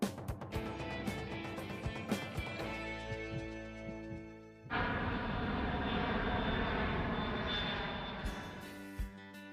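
Fixed-wing airplane engine running at an airport, a steady loud drone with tonal whine that shifts and swells midway, heard alone without talk.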